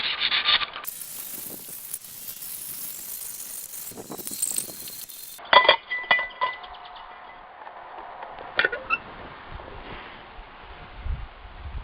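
Hand sanding a 1959 Bolens tiller guard part with 120 grit sandpaper, intermittent soft rubbing and scratching strokes close up, with quiet gaps and a few sharp knocks between passes.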